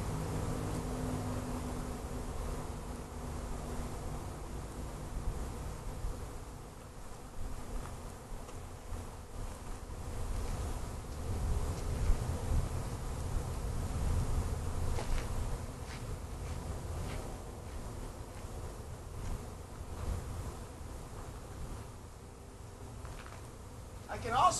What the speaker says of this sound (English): lot of bees gathering on the front of this box right now